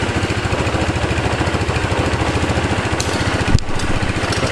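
A freshly converted enduro scooter's small engine runs on its first start, a steady, rapid putter close by with a brief knock partway through.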